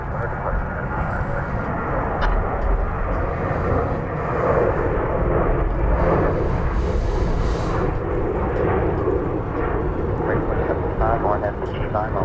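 A jet airliner, a Boeing 777 among traffic at DFW Airport, roars in a broad continuous engine rumble outdoors at a distance, with people talking over it throughout.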